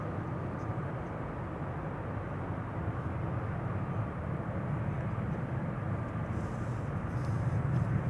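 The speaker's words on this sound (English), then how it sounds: "KLM Cargo, just having taken to the sky" A KLM Cargo jet climbs away from the center runway at Amsterdam Schiphol, a steady, broad engine roar heard from a distance that holds constant throughout with no talking.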